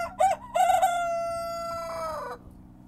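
A rooster crows loudly and close in a farm chicken coop, a long drawn-out call rising and then holding, preceded by short clucking notes, with no talk.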